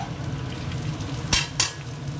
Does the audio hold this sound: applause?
no